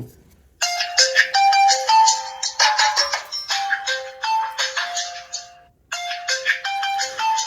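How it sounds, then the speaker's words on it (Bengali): A premium keypad mobile phone plays its ringtone, a bright repeating electronic melody of quick chiming notes in looping phrases with a short pause, loud and alone. "আমরা একটু রিংটোনের সাউন্ডটা দেখবো ফোনটির"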